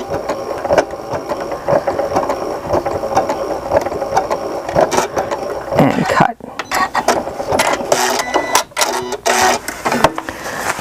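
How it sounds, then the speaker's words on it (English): A sewing machine back stitches a fabric bag edge with bias binding, whirring steadily up close, breaking off briefly and then restarting with choppier mechanical clatter. "And we're just going to back stitch this bit."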